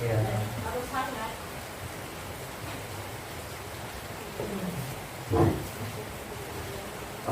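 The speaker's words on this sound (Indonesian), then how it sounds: "Walaupun hari hujan, diskusinya tetap hangat ya." Steady rain hisses outside during an indoor group discussion session, a constant soft broadband wash beneath a voice talking, with a brief louder patter near the end.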